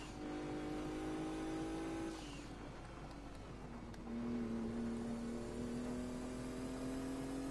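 A race car engine in Gran Turismo 2 drones steadily at high revs, with a gear change partway through and then a sustained whining pitch as it accelerates, continuous and close, with no speech.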